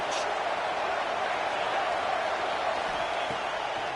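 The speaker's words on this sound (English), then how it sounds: "this crowd is at fever pitch" A football stadium crowd roars at a 3rd-down red-zone play in a college game, a dense, steady wall of noise that stays loud from start to finish.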